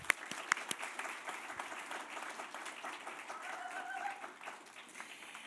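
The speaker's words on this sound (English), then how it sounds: "A round of applause." An audience at an accessibility-themed talks event applauds steadily for the full length, with dense clapping at moderate loudness, a few sharper claps near the start and faint voices mixed into the crowd noise.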